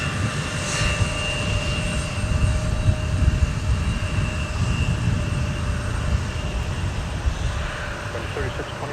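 A Prime Air Boeing 737 taxiing at MSP airport gives a steady distant jet engine drone with a faint high whine, continuous and even.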